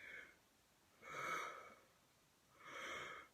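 Three drawn-out, breathy exhalations rise and fade, slow and close, like someone yawning, with no words spoken.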